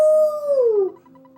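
A dog howls in the video game Earthbound, a single sustained electronic tone that bends downward and fades, with a quieter soft tone continuing after it.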